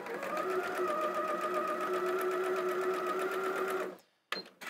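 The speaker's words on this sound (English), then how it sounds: "all you're doing is you're then putting this through your sewing machine as well." A sewing machine stitches through quilt fabric with a steady, even mechanical whir for about four seconds, then stops abruptly, followed by a brief clunk and a short burst of motion.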